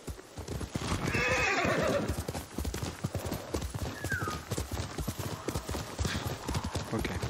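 Rhythmic hoofbeats of a galloping horse in the video game Ghost of Tsushima, with a loud whinny early on, plus game-like background ambience.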